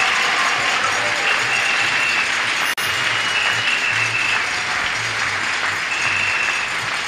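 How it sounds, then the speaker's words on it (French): A church congregation claps and cheers for the Lord in a steady, sustained roar of applause, broken for a moment by one abrupt dropout. "Acclame encore le Seigneur."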